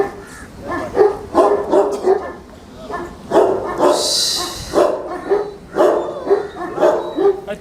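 A 2.5-year-old bully dog, a fighting breed, barks in repeated loud, close bursts, with occasional whimpers and yips between them and people talking in the background.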